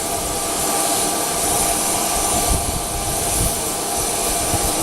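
A jet aircraft engine runs steadily at a municipal airport, a loud, continuous roar with a high whine that holds for the whole stretch and never lets up.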